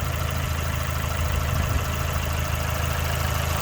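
A 2017 Fiat 124 Spider Abarth turbo engine idles steadily, a low, even rumble with a faint rise in the middle, close by and alone without any talking.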